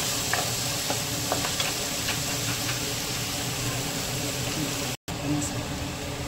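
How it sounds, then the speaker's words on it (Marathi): Ground paneer masala frying in oil, a steady sizzle with occasional stirring clicks and a brief dropout near the end, with someone talking over it. "हे बघा, पनीर मसाला तेलात घातलेला आहे. त्याला मी भाजून घेते."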